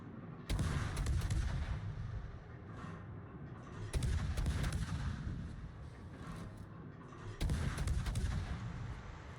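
Naval guns on the British destroyer HMS Somme fire in World of Warships, three heavy booming salvos spaced a few seconds apart, each followed by a rumbling tail.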